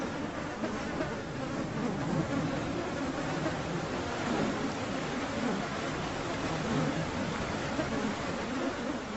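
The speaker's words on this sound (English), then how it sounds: "The air is now clouded by buzzing swarms of bloodsuckers." Dense, steady whine of mosquito swarms over the Alaskan summer tundra where caribou herds graze, a continuous close insect buzz filling the air without pause and with no voices.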